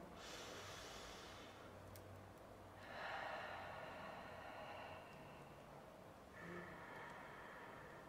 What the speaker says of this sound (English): Let's do five deep breaths all together.